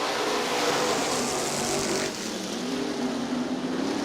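Sprint cars roar around a dirt oval during an eight-lap heat race at Crystal Motor Speedway, a dense, steady engine drone from several cars holding at a loud, near level throughout.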